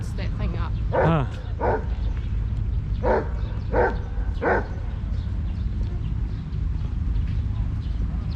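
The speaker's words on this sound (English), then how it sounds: "I saw a dog only bark when he puts that thing up." A dog barks outdoors at a street market festival, giving about five short barks in a loose series under steady crowd chatter and nearby voices.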